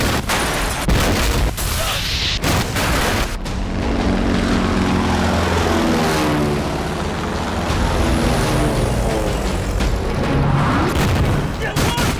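A war film scene in which a huge fleet of propeller aircraft roar at once. The engines make a dense, continuous, loud drone, with sharp bangs at the start and the pitch rising and falling as planes pass.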